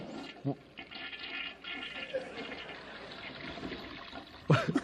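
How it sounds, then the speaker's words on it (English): A toilet flushes in a room with a low rush of water that runs under murmuring voices and ends in a brief louder gurgle. "I think that was a courtesy flush"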